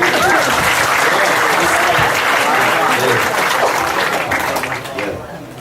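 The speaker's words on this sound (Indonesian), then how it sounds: "Ya, tepuk tangan." Dense, loud applause from a gathered group fills the space steadily, then thins and fades toward the end.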